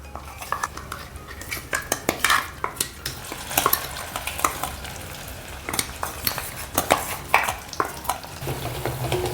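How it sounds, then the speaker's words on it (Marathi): Brown gravy paste being sautéed with already-fried onions in a pan for Punjabi brown gravy, with steady close stirring, spoon scrapes and clinks against the pan over a continuous soft sizzle, no talking. "आता याच्यामध्ये आपण ब्राऊन पेस्ट जी आपण मिक्सी केलेली होती सगळी ती सगळी घालूया"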